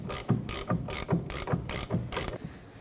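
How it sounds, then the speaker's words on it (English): A hand ratchet wrench cranks on 15mm brake caliper bolts of a 2014-2023 Ford Transit Connect, giving six rapid bursts of clicking pawl strokes in a steady rhythm, close and fairly loud, with no talking. "For the top, I'll be using a wrench."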